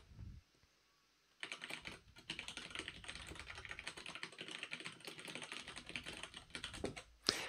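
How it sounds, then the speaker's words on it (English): Rapid, clattering keystrokes on an extremely loud computer keyboard start after a brief quiet moment and continue in dense, irregular bursts, close up and with no speech. "The reason I purchased an extremely loud keyboard is so that when I'm streaming and typing, you can feel like you're involved"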